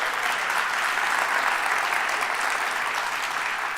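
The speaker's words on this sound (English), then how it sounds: "Give him a round of applause." Sustained applause from a crowd at Flint's 2024 State of the City address, honoring a foundation chairman; steady, dense clapping fills the whole stretch at an even loudness.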